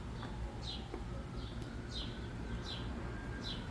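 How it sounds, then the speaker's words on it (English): Birds chirp outdoors through an open back door into a kitchen, a series of short, repeated calls over a steady low room hum, moderately distant and fairly faint. "And so the birds are chirping."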